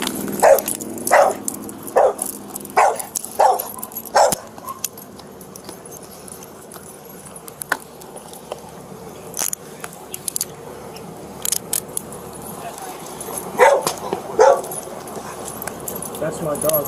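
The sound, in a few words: dog barking during a police traffic stop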